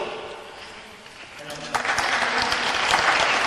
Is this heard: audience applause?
yes